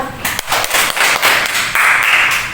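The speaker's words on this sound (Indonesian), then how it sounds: "Beri tepuk tangan untuk kelompok 2." Students in a classroom clap for a presenting group, loud close applause with uneven rhythm building from a few claps into a brief burst.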